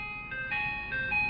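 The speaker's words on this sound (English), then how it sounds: "Yes, it was an ice cream truck." An ice cream truck's tinkling electronic jingle plays steady and fairly close, a bright repeating melody of sustained tones with no talk over it.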